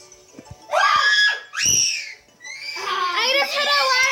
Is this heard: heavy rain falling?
no